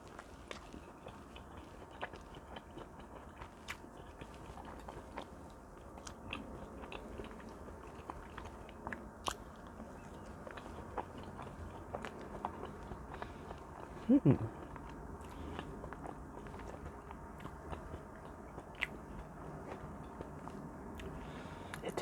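Someone eats homemade blueberry pancakes close to the mic, with soft, steady chewing and occasional bites, a slightly louder crunchy moment midway, and no talking.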